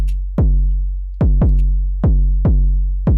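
Deep, booming kick drum hits made in Ableton 12 with the decay turned up, in an uneven pattern, each one sliding down in pitch and ringing out long between strikes, loud and upfront.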